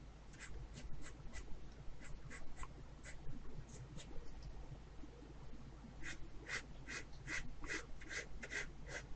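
Pencil shading laid down in tone while sketching lily pads, heard as soft repeated scratchy strokes in bursts, close and faint over a steady low hum, with no talking.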